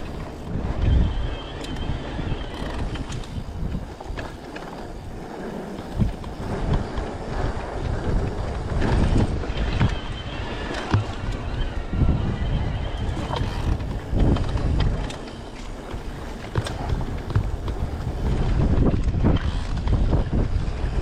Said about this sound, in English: As you can probably hear, it was actually quite windy at this point.